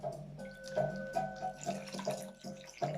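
Cloth dipped back into a bowl of water during a facial ritual, with gentle sloshing and small trickling splashes repeating through the moment, close and soft with no talking.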